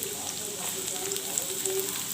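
Chopped onion dropped into hot fish oil for a brinjal and prawn curry gives a steady, soft sizzle with scattered small crackles, fairly faint and continuous, with no talking.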